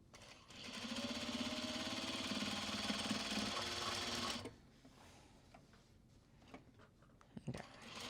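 A sewing machine stitches Japanese fabric bags, running in one steady, buzzing burst for about four seconds before stopping. A few quieter clicks and handling sounds follow.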